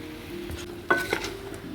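Pumpkin frying with salt in a pan, giving a faint, low sizzle with soft stirring scrapes and a sharper clink of utensil against pan near the middle.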